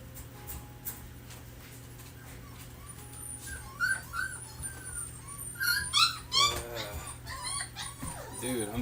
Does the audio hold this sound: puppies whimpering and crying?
yes